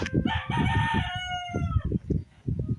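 A rooster crows loudly nearby, one long drawn-out cock-a-doodle-doo over lower clucking and farmyard noise.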